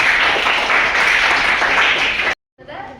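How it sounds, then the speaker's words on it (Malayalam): An audience at a quiz class gives a burst of applause, with dense, continuous clapping for about two seconds that cuts off abruptly. Faint voices follow after the cut. "നല്ലൊരു ക്ലാപ്പ് കൊടുത്തത്"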